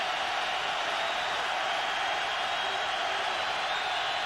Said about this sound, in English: Crowd really roaring now